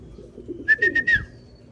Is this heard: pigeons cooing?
yes